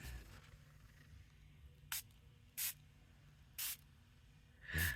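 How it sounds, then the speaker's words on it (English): Four short, sharp spray bursts from a bottle, evenly spaced and fairly close, over a quiet low hum. "Maybe that's what I need to do. Just spray it."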